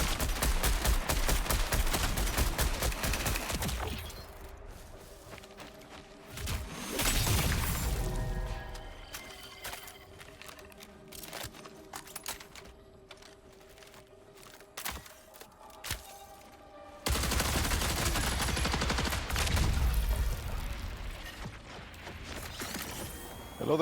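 Rifle fire in the sci-fi shooter Marathon comes in loud clustered bursts separated by quieter stretches, sharp rapid reports mixed with crashes and mechanical clatter amid game ambience.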